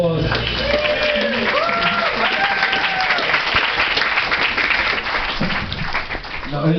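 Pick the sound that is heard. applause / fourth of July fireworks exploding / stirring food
applause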